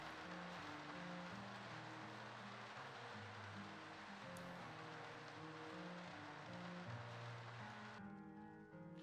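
Steady rain falls in the video game Skyrim Special Edition, a dense, even hiss with some low rumble, continuous throughout and thinning near the end.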